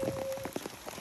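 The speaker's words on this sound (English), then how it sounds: "And we've got a summer rain shower." Summer rain shower falling on an Oregon Hunter 23.5 sailboat at Cultus Lake, a brief patter of soft drops tapping the deck and surface with no voices.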